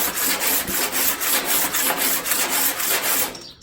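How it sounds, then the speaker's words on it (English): A body file scrapes across a metal panel during metal finishing and paint stripping, making loud, regular back-and-forth rasping strokes, about three per second, before stopping abruptly. "obviously then you go over it with a body file"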